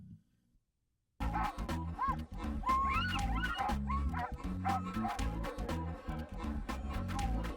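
Sled dogs in Tanana, Alaska, bark, yip and whine together in a loud, continuous, excited chorus that starts abruptly after a brief quiet moment, with howling rising pitches throughout.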